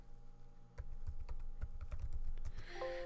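Quick bursts of clicking keystrokes on a computer keyboard as a search term is typed, close and crisp with an irregular rhythm and no voices.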